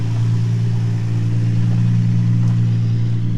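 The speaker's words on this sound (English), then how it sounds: "we'll go and check the engine out. Can't hear too many rattles or anything, seems to run okay" A Nissan Skyline V35 engine idles steadily nearby, a continuous low rumble with a little belt noise and no revving, bought as a drift car project.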